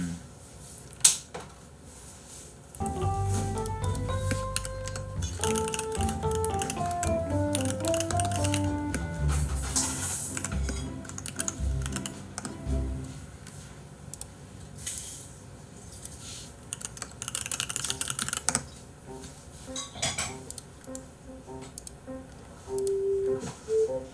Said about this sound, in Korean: 키보드는 MA87이요.